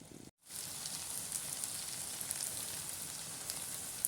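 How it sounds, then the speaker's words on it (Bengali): Tarka, a spiced lentil dish, sizzles and fries in a pan in a home kitchen, a steady soft crackling hiss that carries on alone after a brief silence at the start. "এখন তড়কাটা একটু কষিয়ে নেবো"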